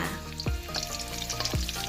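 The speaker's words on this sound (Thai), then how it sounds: "ใส่กระเทียมลงไปเจียวให้หอมนะคะ" Steady, loud sizzling of garlic frying in a hot pan, with a couple of utensil scrapes against the metal.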